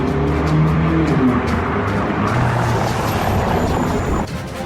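A car is driven recklessly and drifted against traffic, its engine roaring loud and continuous with tyre noise and rushing motion close by, no talk over it.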